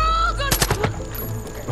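Gunfire in the video game Far Cry 5: a quick cluster of loud shots cracks out close by in a rapid burst against steady game background sound and music.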